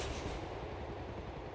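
Steady rumble of a train in motion in the video game Grand Theft Auto IV: The Ballad of Gay Tony, a continuous low rolling roar with faint wheel noise, no voices.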